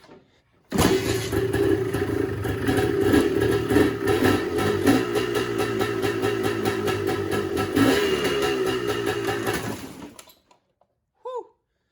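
An engine bursts into life and runs loudly at a rough, steady idle with slight pulsing for about nine seconds, then cuts off, leaving a brief faint sound after.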